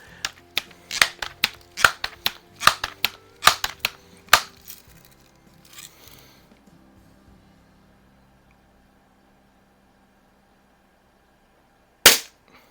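A Crosman 760 air rifle, first variant, firing silver BBs: a rapid series of about a dozen sharp, close snaps and pumping clicks over four seconds, then quiet, and one last crisp shot near the end.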